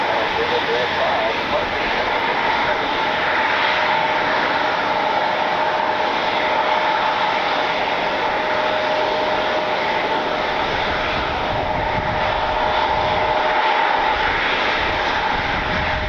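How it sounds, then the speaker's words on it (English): An Alaska Airlines Boeing 737 jet arriving at Cleveland produces a steady, moderately distant engine roar that holds throughout, with voices audible underneath. "It's the first visit of the newest Alaska Airlines special livery will be coming in today."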